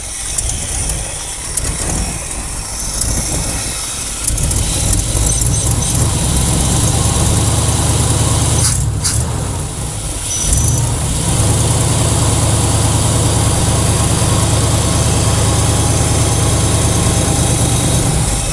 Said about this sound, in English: But as you can see, it's idling.